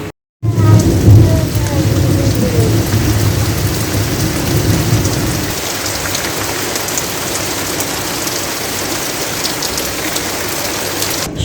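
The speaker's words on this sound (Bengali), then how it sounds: "বৃষ্টি নামতেছে বেশ ঠান্ডা ঠান্ডা ওয়েদার" Steady heavy rain pours down with rumbling thunder, loud and continuous throughout, with no talking.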